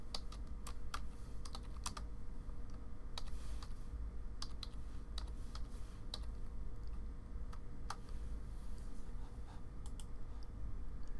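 Steady typing on a computer keyboard, a fast, continuous patter of close key clicks with a few louder strokes spread throughout, no voices.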